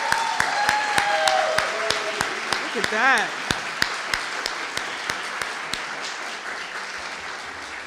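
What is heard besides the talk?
inductees clapping for themselves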